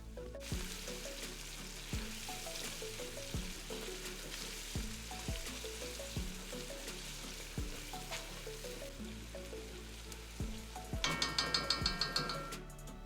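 Tomato paste fries in a pot of Senegalese-style peanut butter stew, a constant close sizzle broken by regular stirring scrapes about once a second, with a burst of clinking utensils toward the end.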